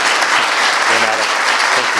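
An evening audience at a venture plan competition breaks into sustained, close applause, a thick wash of clapping hands that stays loud and even throughout.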